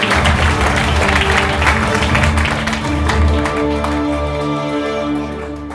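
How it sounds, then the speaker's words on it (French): An audience applauds a publisher at a Cannes 2017 cocktail event, with steady dense clapping filling the room for several seconds amid background hum and a few voices. "On peut l'applaudir, il donne de son temps."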